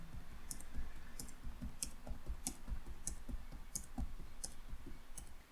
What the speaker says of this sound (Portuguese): Vou digitar aqui novamente os elementos da nossa matriz.